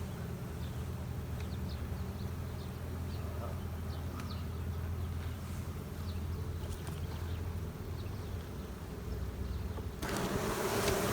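Honeybees swarm and hum around an open hive as a queen excluder is slid into place, a steady dense buzz close by with scattered brief flight whines over it, the hum swelling louder near the end.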